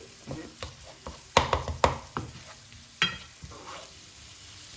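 Pizza topping cooking in a pan while being stirred, a bed of soft sizzling broken by several distinct scraping and knocking strokes of a utensil, close and fairly loud, no talking.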